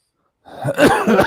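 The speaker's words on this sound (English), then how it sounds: "I didn't mean to cough in your fellas' ears." A single loud, close cough bursts out after a moment of silence, rough and breathy.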